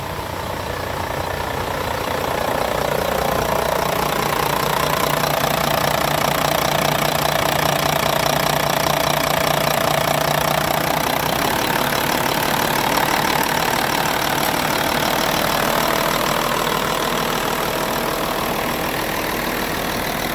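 A small water pump engine runs steadily close by in a rice field, chugging and rattling, then speeds up slightly and holds a constant, busy drone throughout.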